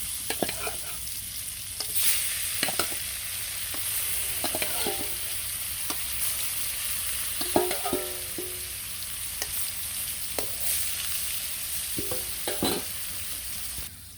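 Steady oil sizzle of fish frying, with a few sharp clinks and scraping sounds of a utensil stirring in the pan.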